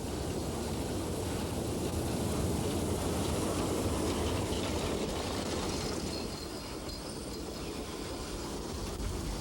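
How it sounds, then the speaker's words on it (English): A narrow-gauge train hauled by a pre-war tank locomotive pulls into Bertsdorf station near Zittau in Germany, producing a continuous loud rumble of wheels and running gear with faint squeals and no voices. "The train for Kurort-Oybin pulls in while the connection for Kurort-Jonsdorf waits alongside."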